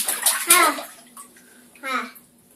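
A small child in a bathtub with water, bright kid chatter and an adult voice ringing in the tiled room over faint splashing.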